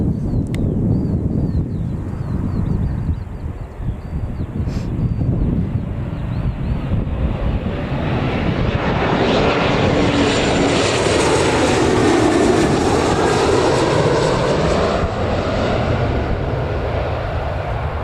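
A KLM airliner passes at Newcastle Airport, its engines building from a low rumble to a loud, broad jet roar close by, with wind buffeting the microphone throughout.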